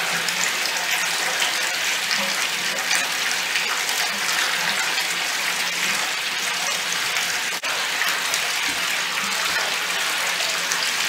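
A film developing tank holding CineStill DF96 monobath and Fomapan 200 film is agitated, giving a continuous liquid sloshing and swishing rush at a steady level with no voices.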